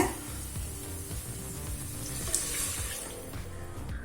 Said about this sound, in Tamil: அடுத்தது தண்ணி சேர்த்துக்கலாங்க.